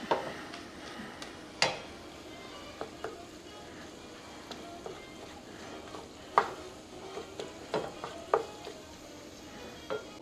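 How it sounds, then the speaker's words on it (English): Sausage browning in a pan gives a soft, steady sizzle, broken by occasional clinks and scrapes of a utensil stirring against the cookware, fairly quiet with no voices. "So while we have our sausage browning"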